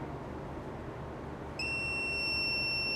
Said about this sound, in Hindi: ये देखिए 31 समथिंग आ रहा है, तो ये बीप कर रहा है।